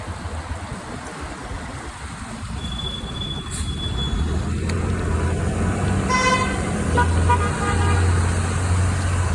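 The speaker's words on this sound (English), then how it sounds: "what is going on with the traffic?" Busy road traffic rumbles steadily nearby while car horns toot several times, including a short beep and a longer honk, over a continuous bed of engine and road noise.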